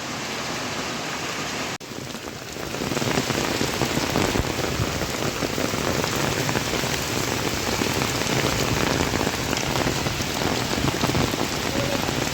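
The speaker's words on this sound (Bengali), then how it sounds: "প্রচণ্ড বেগে বৃষ্টি হচ্ছে" Heavy storm rain pours down in a dense, steady roar that grows louder after a brief dip near the start, with no voices.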